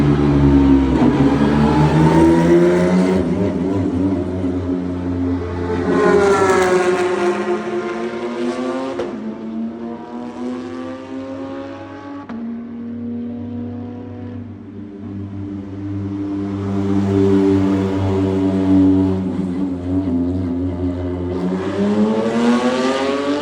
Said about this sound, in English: Sorry, the Porsches are coming around.